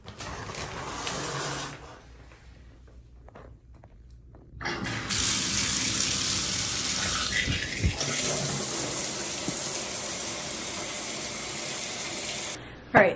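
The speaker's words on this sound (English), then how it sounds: "I'm going to take a shower." Shower water runs in a steady, loud hiss for several seconds after a quieter stretch, then cuts off near the end.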